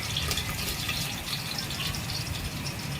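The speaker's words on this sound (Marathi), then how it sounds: "आता मी त्यामध्ये पाणी टाकणार आहे" Water pours steadily into a pot, making a continuous, moderately quiet splashing rush with no one speaking.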